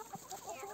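Mixed-breed hens, including Brahma and Ameraucana chickens, give a few soft, faint clucks while being fed bread, brief scattered calls close by.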